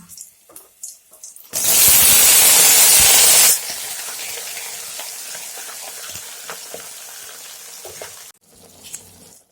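Taro pieces dropped into hot mustard oil with green chilies and five-spice seeds in a wok, setting off a loud, sudden roaring sizzle. The sizzle settles after a couple of seconds into a steady, quieter frying crackle.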